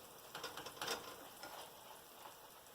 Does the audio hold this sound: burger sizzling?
yes